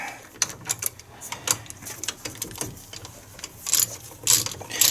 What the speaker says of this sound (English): I'm going to get these ratchet tight, and then we're going to torque them down to 133 foot-pounds